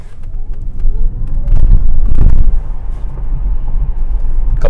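A Tesla Model S P100D on bald tires launches at full acceleration, building into a loud, close roar of road and wind rush with a faint rising electric whine, then easing back slightly.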